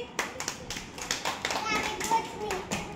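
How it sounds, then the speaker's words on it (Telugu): Children clapping for classmates, a quick run of sharp, fairly close hand claps mixed with children's voices. "మిగతా క్లాప్స్ కట్టండి వాళ్ళకి"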